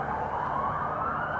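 Police sirens wail loudly and continuously, a sustained rising electronic tone with a busy traffic-like rumble beneath, no voices present.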